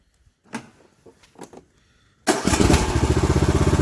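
Briggs & Stratton engine repowering a Cub Cadet LTX 1045 riding mower: a few quiet clicks and pulls, then the engine fires abruptly and settles into a loud, steady, rapid idle chug close by.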